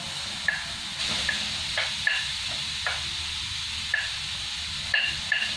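Grated carrot dropped into a hot pan for raita, giving a steady close hiss with a few brief stirring clicks and scrapes over it, no voice.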